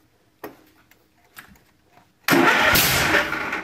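A small engine with its choke adjusted gives a few faint ticks and cranking taps, then fires up abruptly into a loud, steady running roar.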